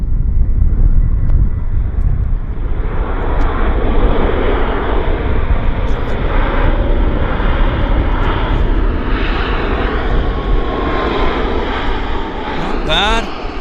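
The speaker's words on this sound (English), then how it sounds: "That's a nice landing, actually." An airplane lands at Vancouver International Airport (YVR), producing a loud sustained engine roar with heavy rumble and wind buffeting, steady throughout, while someone talks over it.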